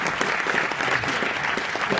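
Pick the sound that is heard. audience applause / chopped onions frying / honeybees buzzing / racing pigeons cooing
audience applause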